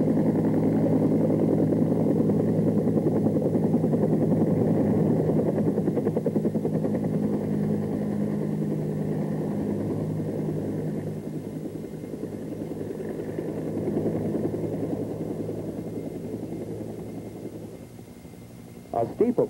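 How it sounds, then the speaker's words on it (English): A heavily laden Bell AH-1 Cobra attack helicopter during takeoff, a steady deep engine and rotor drone that holds throughout and eases slightly toward the end, with someone narrating over it. "Takeoff allows a heavily laden Cobra to develop translational lift through forward speed"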